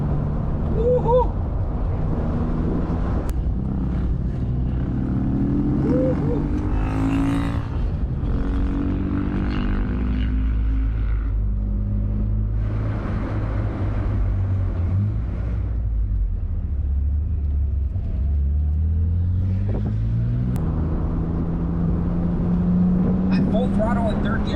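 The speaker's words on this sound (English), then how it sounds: "I'm full throttle in third gear right now." A BMW Z3 2.3 engine pulls at full throttle in third gear, a loud, steady rumble climbing in pitch over many seconds, with someone talking throughout.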